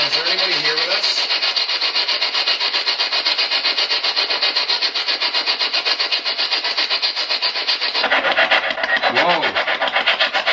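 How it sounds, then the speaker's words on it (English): A spirit box scans radio static in a reportedly haunted place in Canada, giving a constant loud hiss with rapid rhythmic sweeping chops, while faint voices murmur beneath the noise. "So, I've turned on the spirit box, so if there's anybody here with us, once I turn the volume up, I'm going to ask questions"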